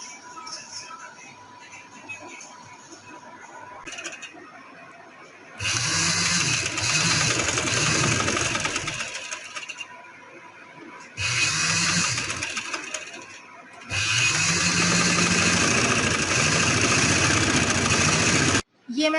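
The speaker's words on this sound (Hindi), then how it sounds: "कट करने के बाद ये जो दूसरा निशान है इसके ऊपर भी सिलाई लगा लेंगे।" An electric sewing machine runs in several bursts while stitching trouser fabric, with loud whirring runs separated by quiet pauses and a faint hum between them.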